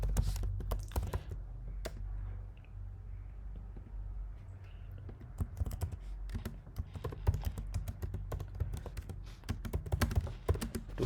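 Computer keyboard typing while entering text in a Linux terminal, a steady stream of close, irregular key clicks and thunks lasting several seconds, with a short quieter stretch, no speech.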